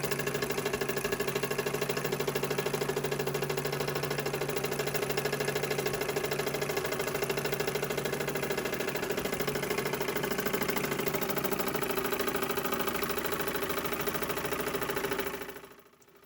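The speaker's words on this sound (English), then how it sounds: "The steam engine will run like this for about 5 minutes if both tanks are full." An A. Müller collectible working model steam engine runs with a steady, fast mechanical hum and fine rhythmic ticking, holding an even level before cutting off abruptly at the end.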